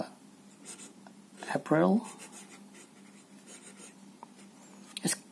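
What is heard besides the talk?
Staedtler Initium Metallum fountain pen writing with emerald ink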